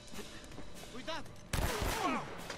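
Gunfire in the video game Uncharted: a couple of sharp, loud shots, the second bursting into a louder blast with a ringing tail, over a steady background of game sound.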